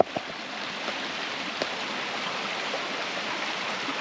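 Water trickling and flowing down into a tiny sinkhole and crack along a woodland trail, a steady close hiss of running water with no talking.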